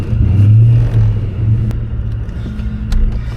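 A Ford Mustang engine rumbles and briefly revs while being forced into a stubborn reverse gear, a low throaty burble that swells early, dips, then settles into an uneven idle.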